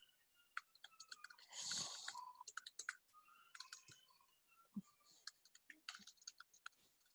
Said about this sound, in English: I was just typing a quick message to Catherine.